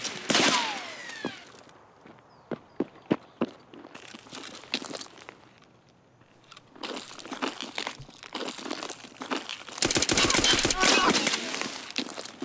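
Gunfire in the shooter game Escape From Tarkov, with sharp single shots and short rapid bursts among crunching, rustling movement noises, near and fairly loud, with players talking over it.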